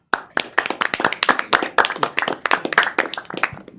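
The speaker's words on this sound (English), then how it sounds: "let's give both of those young men a round of applause" A small audience at a student advisory council meeting claps for two young men, a few close hands producing crisp, distinct claps in a quick uneven rhythm that run for several seconds and then stop.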